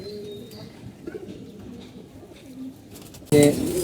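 Tournament pigeons coo softly in low, repeated murmurs nearby, ending in a sudden louder burst of sound.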